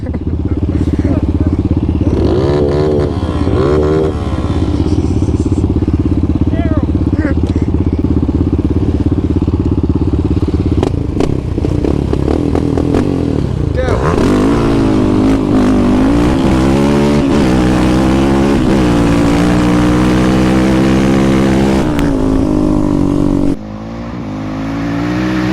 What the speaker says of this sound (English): That dirt bike is fast, man.